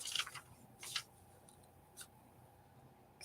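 Several quick, faint snips of scissors cutting paper for a creepy-themed collage, spaced irregularly against a quiet background.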